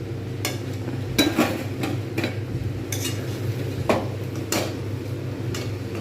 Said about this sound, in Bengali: আমাকে কিন্তু এটাকে নাড়তে হচ্ছে শুকনো মতো হয়ে যাবে